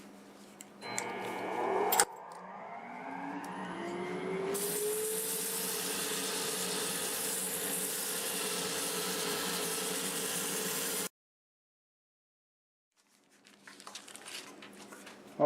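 A steady whirring power-tool drone with 2-inch sanding pads on a turned Jatoba and Walnut staved bowl runs for several seconds with gritty friction noise, then cuts to silence before faint scraping resumes.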